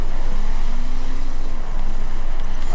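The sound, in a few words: Spec Dirt car driving in The Crew video game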